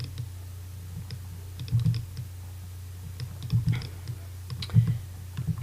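Computer keyboard keys are pressed for Blender shortcuts in a low-poly Glock 19 modeling session, with a few soft, close clicks in short clusters over a steady low hum.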